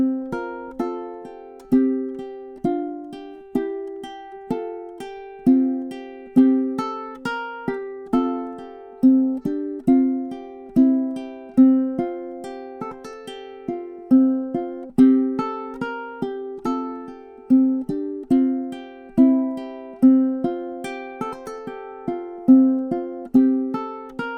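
A ukulele plays Deck the Halls with steady strummed chords and plucked melody notes in an even, bouncing rhythm, close and clear with no voices.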